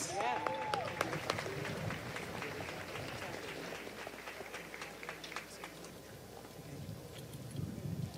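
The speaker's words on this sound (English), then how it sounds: "Y'all please clap them up." Sustained audience applause at the Royal Bahamas Defence Force change of command ceremony, a continuous moderate clatter of many hands with a voice speaking over it early on.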